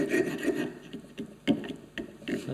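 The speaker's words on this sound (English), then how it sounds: "This is the rough rasp part of the tool." A four-in-hand's rough rasp side takes the corners off a piece of wood in short, gritty back-and-forth strokes, about five rasping passes close up with brief pauses between them.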